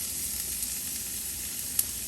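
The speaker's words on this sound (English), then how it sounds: "I'm gonna put a little bit more oil back in the wok, and I'm gonna get my onions" Onions sizzle and crackle in hot oil in a wok while making chicken fried rice, a close, dense, steady frying hiss with one small pop near the end.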